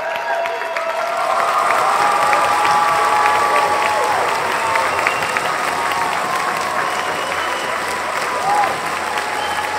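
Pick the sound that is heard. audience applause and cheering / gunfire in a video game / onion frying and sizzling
audience applause and cheering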